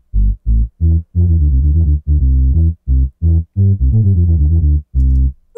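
Chiptune walking bass line built on a Solaboy-style retro synth, a run of short punchy low square-wave notes stepping in a bouncing rhythm, loud and alone, with brief gaps between groups of notes.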